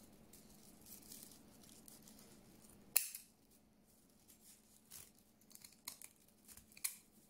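Scissors cut through the mouth part of a fabric piece with a sharp snip, then several quieter crunching cuts follow, close and faint over a low steady hum.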